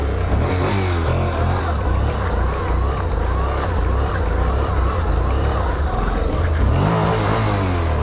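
A Honda NC700 road motorcycle engine roars steadily at high revs during a throttle turn, the throttle held open with a slight rise near the end, loud and close.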